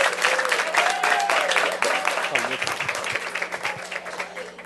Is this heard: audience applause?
yes